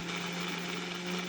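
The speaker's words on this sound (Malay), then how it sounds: "Masukkan ke semua bahan dalam pengisar." Blender grinding ingredients for a grilled fish tamarind dipping sauce, a steady motor whir running continuously at moderate level with no talk.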